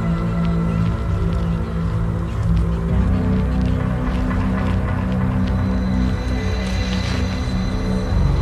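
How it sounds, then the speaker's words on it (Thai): Chickens call out at dawn, a continuous layered clucking and crowing close by, with no talk over it. "ไก่มันตื่นซะแล้ว"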